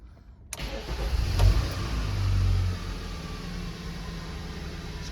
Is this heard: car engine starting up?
yes